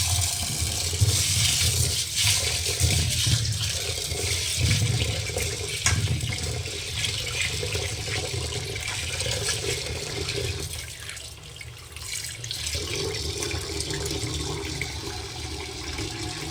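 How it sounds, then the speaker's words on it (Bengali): Tap water runs steadily as split peas (matar dal) are washed in a kitchen sink, a continuous close gush with rinsing and swirling for the whole stretch. "এই যে মটর ডালটাকে আগে আমি ধুয়ে নেব।"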